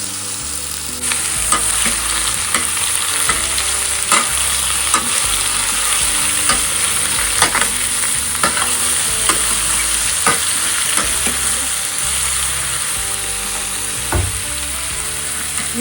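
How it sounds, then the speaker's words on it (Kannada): Pumpkin pieces stir-fried in a pan for a traditional majjige huli (buttermilk curry) give off a loud, steady sizzle, with frequent sharp clinks and scrapes of the spatula throughout, and no voices. "ಕುಂಬಳಕಾಯಿದಲ್ಲಿ ಚೆನ್ನಾಗಿ ಫ್ರೈ ಆಗಿ ಬಾಯ್ಲ್ ಆಗಿ ಬೇಯಬೇಕು"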